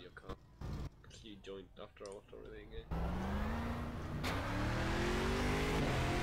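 Race car in Game Stock Car 2012 (Peugeot or Chevrolet stock car) pulling out of pit lane: a voice talks first, then the engine takes over with a loud, steady drone climbing in pitch.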